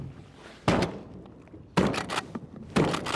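Shotgun fire from a sink box on the water at goldeneye ducks: three sharp, heavy blasts spaced about a second apart, close and loud, with quieter pauses between them.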